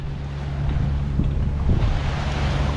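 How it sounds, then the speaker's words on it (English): Gentle breeze on a boat motoring in light swell at sea, a continuous soft rushing roar with a low steady engine drone underneath, fairly loud and unbroken. "And there's a little bit of wind, a little bit of breeze."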